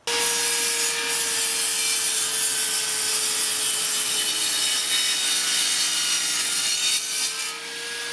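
A Parkside PKTS 2000 table saw cuts through wood, its motor whining steadily with a continuous close rasping bite of the blade in the workpiece for several seconds.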